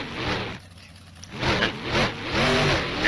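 A monster truck engine at a Monster Jam arena event in Orlando revs hard into an attempted wheelie, roaring in uneven surges after a brief dip, loud and close with crowd noise behind it.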